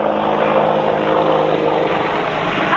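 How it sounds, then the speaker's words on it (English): A helicopter flies overhead outdoors, its steady, loud rotor and engine drone holding close and even for the whole stretch with no voices. "hello, helicopter"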